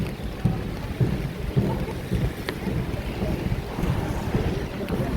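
Heavy outdoor rain pours steadily beside Buckingham Palace, a dense continuous wash mixed with wind buffeting the microphone and occasional low thumps, loud and close throughout.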